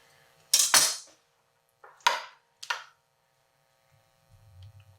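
Utensil scraping and clinking against a bowl while rosemary dressing is stirred into potato salad, three distinct bursts of scraping in quiet, then a soft low rumble at the end.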